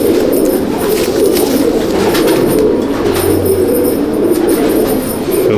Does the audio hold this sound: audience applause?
no